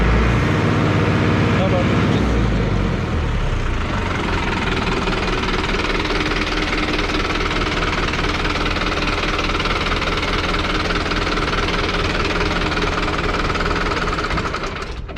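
Tractor engine revving hard under load to raise the hydraulic lift after a hydraulic filter change, a loud, steady mechanical roar with knocking vibration that sharpens after a low rumble at the start, with voices talking over it.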